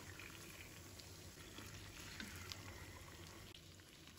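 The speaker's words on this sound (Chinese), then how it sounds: "开中火把鸡腿煎一下" Chicken legs sizzle in a wok with oil, scallion, ginger and garlic over medium heat, a steady, faint frying crackle with no one speaking.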